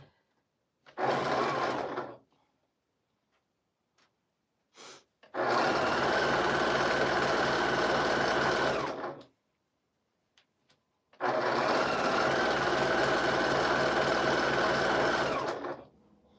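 A sewing machine stitching jelly roll quilt strips runs in three separate bursts close up: one short, then two long steady whirring runs of about four seconds each, with quiet gaps between and no voices.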